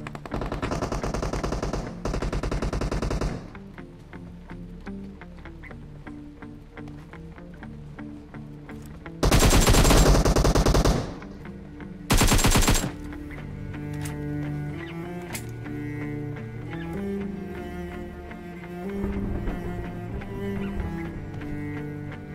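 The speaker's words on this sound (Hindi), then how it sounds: "कुछ समय बाद फाइव हाउसेस की तरफ से फायरिंग साउंड आने लगी" Gunfire in PUBG Mobile in the Erangel map, with bursts of automatic shots at the start and two loud close volleys in the middle, over a steady game soundtrack with softer distant shots between.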